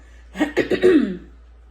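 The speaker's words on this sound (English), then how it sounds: "all of this clearing my throat and all this" A single person clears their throat up close in a short, rough burst of several quick guttural pulses, followed by silence.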